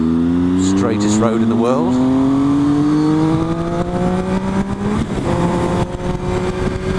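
A car accelerating hard to overtake on a straight country road, the engine note climbing steadily through rising harmonics and shifting up, loud and close, with someone talking over it.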